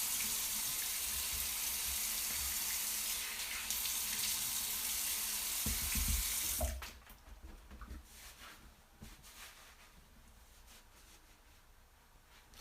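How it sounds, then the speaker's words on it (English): A bathroom tap runs loudly in a steady rush for several seconds. Then it cuts off, and quieter splashes and drips follow as cold water is splashed onto a face. "I'll splash a little cold water on my face."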